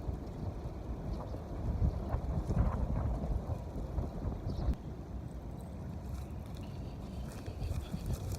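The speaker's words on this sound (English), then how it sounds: "This wind is crazy" Strong wind buffeting outdoors on a fishing boat, a continuous low rumbling roar with gusty surges, loud and close.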